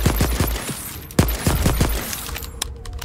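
Gunfire in Voidtrain with ammunition running low: a few sharp, close shots in quick bursts, then a single louder blast, followed by scattered fainter shots and a clinking tail.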